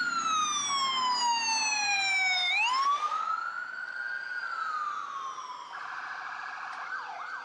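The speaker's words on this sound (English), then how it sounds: "Wow, they have US sirens here." A police siren wails nearby, its tone sweeping down and then rising again in long glides, shifting to a faster warble near the end.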